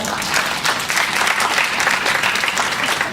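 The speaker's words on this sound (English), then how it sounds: "Big round of applause for Universal." An audience at a furniture market learning center session bursts into steady, loud applause, thick continuous clapping throughout with a faint murmur of crowd beneath.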